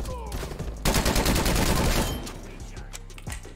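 Gunfire in Call of Duty Black Ops Cold War, with the new UGR SMG: a loud burst of rapid shots in the middle, with quieter scattered shots and game noise before and after.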